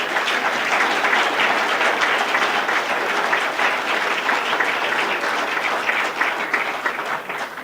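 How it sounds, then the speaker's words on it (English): Sustained audience applause at a political speech, loud and dense throughout, thousands of overlapping claps forming a steady wash that tapers slightly at the end. "I think I know from your applause which kind of government you think we've been getting"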